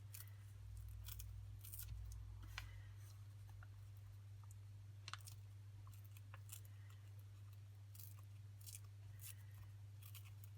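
Paper being torn to re-use an envelope, giving short scattered rips and crinkles, quiet and close over a steady low background hum.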